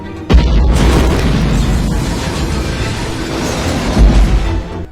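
A bomb detonating inside a house in a film, one sudden loud boom followed by a long, dense roar of crashing and rumbling debris that stays loud before fading, with no voices.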